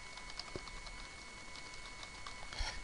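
Soft, scattered key presses on a computer keyboard, a few quiet clicks at an irregular pace against a faint hum, with a slightly louder tap near the end.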